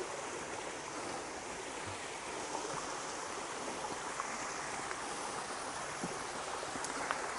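Water murmuring from a waterfall near Lazarevskoye in August, heard from a hillside trail: a steady, even rush of flowing water without a break, moderately loud and alone, with no voices.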